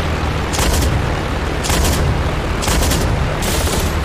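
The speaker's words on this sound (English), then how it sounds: "Mighty cannon." Heavy aircraft cannon on a World War II warbird firing in the DCS flight simulator, loud booming bursts in roughly four separate volleys with brief gaps between them, all close and powerful.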